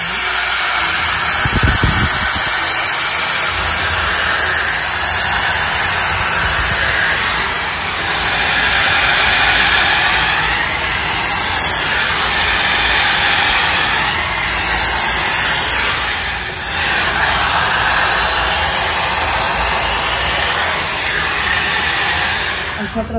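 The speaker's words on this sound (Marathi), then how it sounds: "आता मी यूज करते स्मूथनिंग ब्रश. ह्याच्याने आपले जे हेअर आहेत ते स्ट्रेट होते." An electric hair smoothing brush runs as a steady, close, loud blowing hiss while straightening hair, with a continuous airy whoosh and slight swells throughout and no talking.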